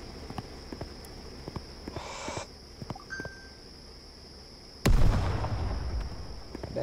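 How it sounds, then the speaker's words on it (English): A hand grenade explodes in Black Hawk Rescue Mission 5, a single loud, close blast that bursts suddenly out of quiet game ambience and trails into a rumbling roar lasting a couple of seconds. "What if I throw a hand grenade at it?"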